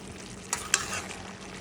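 Cabbage and goat meat being stirred in a cooking pan, a soft steady sizzle with two brief sharp scrapes of the spoon, close and quiet, no talk.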